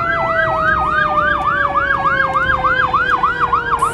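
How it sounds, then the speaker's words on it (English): Police car and ambulance sirens wail past on the road, a loud, steady rapid yelp cycling about four times a second over low traffic rumble, slowly dropping in pitch as they pass. "Police car, ambulance."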